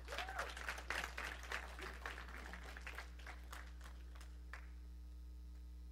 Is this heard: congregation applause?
yes